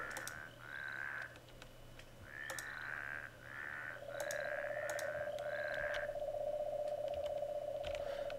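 Toads in a Minecraft-style video game croaking in repeated short, buzzy calls at an even rhythm, fairly faint, with a steady tonal drone joining partway through.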